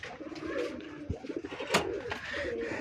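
A white pigeon coos close up in a few soft, throaty, rolling phrases, with a brief knock and a rustle partway through.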